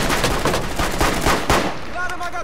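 Rapid gunfire in Rainbow Six Siege, a dense run of sharp shots fired in steady succession at close range, loud throughout, with a brief tonal sound near the end.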